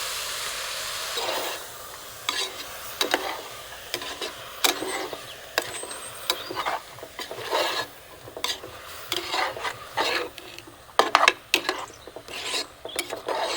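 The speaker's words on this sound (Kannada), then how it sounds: "ಇದಕ್ಕೆ ರುಬ್ಬಿದ ಮಿಶ್ರಣವನ್ನು ಹಾಕ್ಕೊಳ್ತಾ ಇದ್ದೇನೆ" Ground coconut masala paste being scraped and stirred into vegetable pulao in a pan, with repeated soft rasping and scraping strokes, fairly close and moderate in level, no talking.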